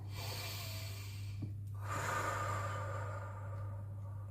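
A single deep breath in during a guided meditation, a long airy inhale followed by a soft exhale, close and clear over a low steady hum.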